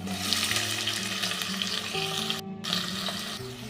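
Finely chopped onions fry in hot oil for a garlic methi dish, giving a continuous close sizzle with a low steady hum beneath and a brief break midway.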